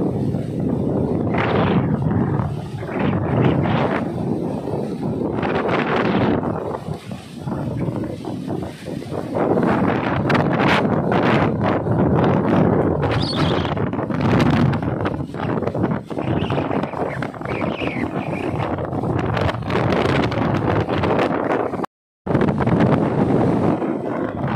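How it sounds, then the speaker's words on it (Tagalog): Strong Typhoon Paeng wind roars and buffets the microphone outdoors near water in the Philippines, a loud continuous rumbling gust-driven noise with surging swells and one brief dropout, no speech. "Grabe, lakas ng hangin."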